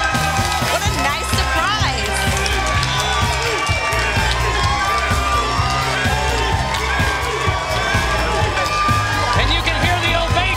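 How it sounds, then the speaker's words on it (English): Sold-out wrestling crowd giving a loud, sustained ovation with cheering and whoops for a surprise entrance at an NWA Powerrr event, continuous roar throughout with commentators talking over it. "And you can hear the ovation from the sold-out crowd, Tim."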